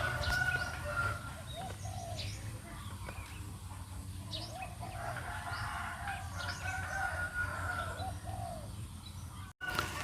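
A large dove's soft, low cooing calls repeat through steady outdoor ambience, with other birds chirping faintly in the background.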